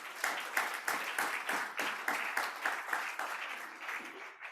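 A church congregation applauds in praise of the Lord, a steady rhythmic clapping in unison with regular beats, fairly close and filling the room.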